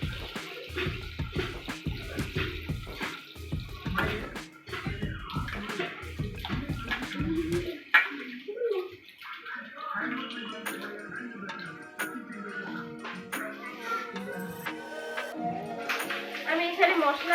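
Freshly cut vegetables are rinsed by hand in a bowl of water in a home kitchen, with close sloshing, splashing and dripping that run on steadily while someone talks over parts of it.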